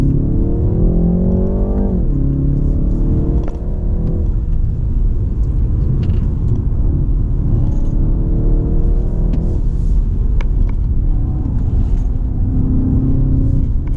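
A 2019 BMW 330i G20 M Sport climbs a winding mountain road at Genting, its engine loud and close with rising, falling revs and shifts, plus tire and road rumble throughout.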